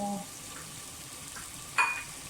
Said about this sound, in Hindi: लहसुन अदरक के पेस्ट के साथ आलू जो है वो भून जाए तो